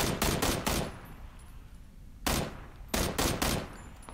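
Automatic gunfire in PUBG on Xbox One rings out in three loud, close bursts of rapid shots, one at the start, a brief one midway and a longer one near the end, with quiet gaps between.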